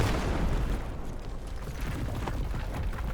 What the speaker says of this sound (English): we're giving them a nice cannon barrage